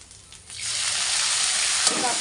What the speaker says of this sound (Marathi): तर आपण यात टाकूया हे टमाटो.